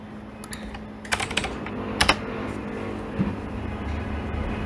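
Code is typed on a computer keyboard in a few scattered bursts of crisp keystrokes, close and fairly quiet, over a steady low background hum.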